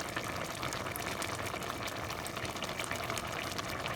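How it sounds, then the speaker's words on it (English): A covered pot of Trinidadian callaloo with whole peppers and shrimp boiling, a steady dense bubbling and hiss, even and continuous throughout, close by and moderately quiet. "Alright, so we're gonna cover it and leave it to boil"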